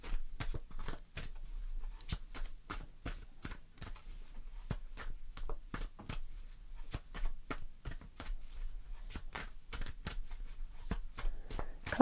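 Tarot cards are shuffled by hand, giving rapid soft riffling and slapping taps in an uneven rhythm. The sound is quiet and close, with no talk.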